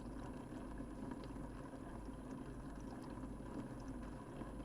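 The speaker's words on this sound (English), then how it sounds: "You can definitely hear the water flowing down the dishwasher." Water flowing and splashing inside a running household dishwasher, captured close with a microphone as a faint, steady wash-like rush with no pauses.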